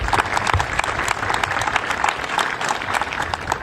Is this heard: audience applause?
yes